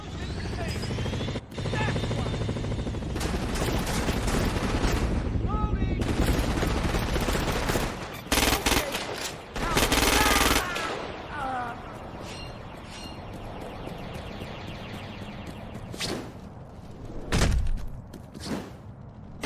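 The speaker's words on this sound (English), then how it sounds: "Shoot an enemy's arm to stop them from returning fire." Bursts of gunfire and explosions from the Xbox game Crackdown 2 crackle and thump amid a droning helicopter, with loud rapid volleys and heavy booms, while game voices speak at times.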